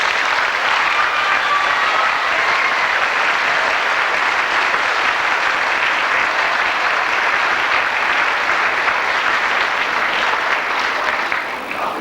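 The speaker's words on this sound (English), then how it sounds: "give them a really good round of applause for our combined choir and orchestra" A school concert audience gives a sustained round of applause for a combined choir and orchestra. The dense, loud clapping stays even for about twelve seconds before easing slightly at the very end, with no speech over it.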